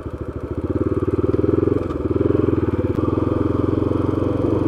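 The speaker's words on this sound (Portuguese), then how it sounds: "hoje vou fazer o percurso de moto por esse loteamento" A motorcycle engine putters steadily up close while riding through a housing subdivision in Boituva, Brazil, its rapid rhythmic pulsing continuous throughout with faint rattles, no voices.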